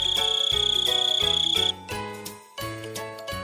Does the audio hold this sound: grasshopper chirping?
yes